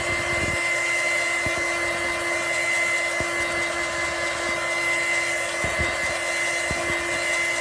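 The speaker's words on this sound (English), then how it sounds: "we're going to dry this real quick" Hair dryer drying wet watercolor paint on cardstock, a steady, loud whirring blow that runs unbroken throughout with a few faint clicks and knocks.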